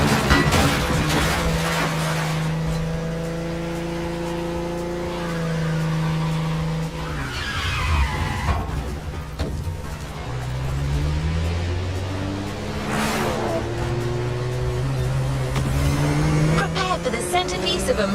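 A Ford Mustang Boss 429 muscle car revs and accelerates in rising and falling engine sweeps, with bursts of tire squeal, loud and close, while a voice talks over it.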